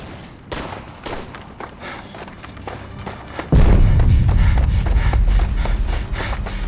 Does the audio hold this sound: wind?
no